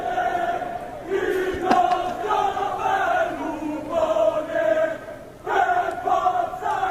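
Spectators at the centuries-old Siena horse race shout and chant together in loud, tonal bursts that swell and dip, with a brief lull before another surge of massed voices near the end.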